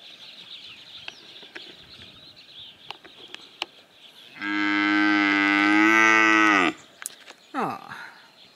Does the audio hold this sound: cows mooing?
yes